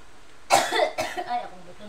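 One person gives a couple of harsh, close coughs in quick succession, trailing into a quieter throat-clearing rasp.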